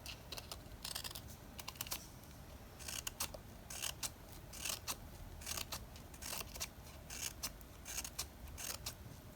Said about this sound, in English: So I'm going to again cut the slits.